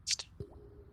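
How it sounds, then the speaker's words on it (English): Water dripping in the grayscale video game Blankspace: a pair of quick bright drops followed by a single low plop, faint and isolated, with a thin lingering tone afterward. "Drip."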